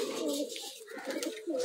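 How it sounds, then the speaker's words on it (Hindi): Pigeons on a rooftop coo in soft, repeated throaty warbles, close and clear, with a faint voice in the background. "सात कबूतर अभी बाकी हैं"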